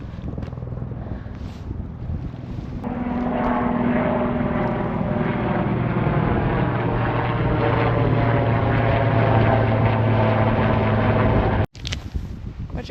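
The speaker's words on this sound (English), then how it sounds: "The helicopter again." A helicopter passes over snowy Svalbard, its engine and rotor drone swelling into a loud, sustained roar with wind buffeting the microphone, before cutting off sharply near the end.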